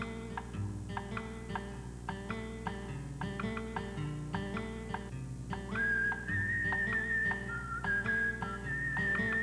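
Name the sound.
whistling a little cowboy tune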